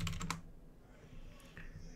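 Keys clatter in a quick burst on a computer keyboard while logging back into a Windows 10 virtual machine, then fainter scattered taps follow against a low room hum.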